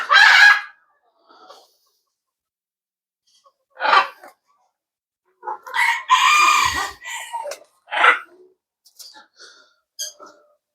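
Exotic fancy chickens cluck and a rooster crows in loud, close bursts separated by quiet gaps at a farm in Thanjavur.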